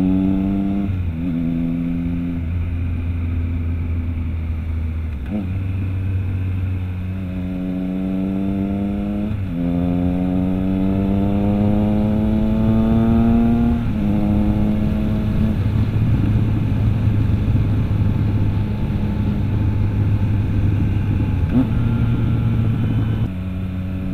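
A Triumph motorcycle on a long ride rev-matches through several downshifts, the engine blipping up in quick stepped pitch sweeps between steady running, loud and close with wind behind it.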